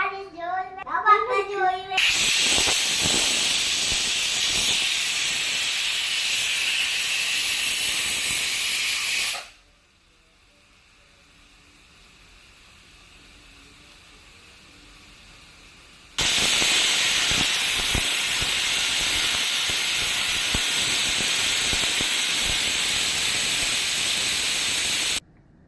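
A pressure cooker of beef vents steam in loud, steady hissing bursts. One runs about seven seconds, a quieter lull follows, then a second long blast lasts nearly ten seconds before it cuts off.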